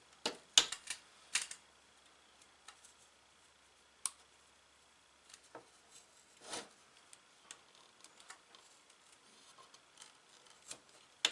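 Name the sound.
single-sided razor blade cutting tabs off Husqvarna crankcase part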